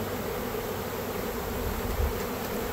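A honey bee swarm being captured and relocated, buzzing loudly and steadily up close, a dense unbroken drone with no voices.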